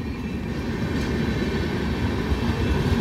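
The Down Shatabdi Express runs along the main line toward Howrah Junction, a continuous loud rumble of wheels and carriages rolling steadily past at close range, with no voices.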